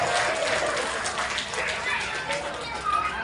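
Applause and cheering from an audience at a magic show, a steady wash of clapping with children's voices and crowd chatter mixed in, fairly loud and continuous.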